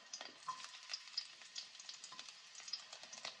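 Garlic sautéing in a pan, a soft, continuous crackling sizzle with small pops, heard up close but faint, with no talking.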